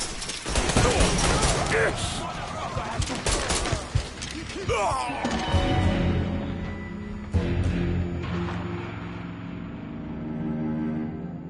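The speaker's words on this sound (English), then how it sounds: "It's shotgun time. Shoot." Shotgun fire in the crime action game Mafia III, heavy loud blasts in quick succession with crashing impacts, followed by a few more isolated shots amid lingering game noise.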